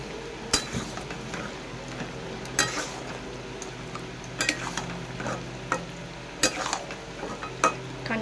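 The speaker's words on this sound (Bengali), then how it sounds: "অনেকক্ষণ এই আলু দিয়ে এইভাবে কষতে থাকবো" Potatoes and mutton stir-fried in a pan, a low sizzle with repeated sharp clinks and scrapes of a spatula against the metal at an irregular pace.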